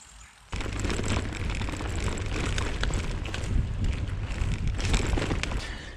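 Steady roaring wind buffeting the microphone while cycling on a windy day toward Stanhope, County Durham, loud and continuous after a brief quieter start, with no voices.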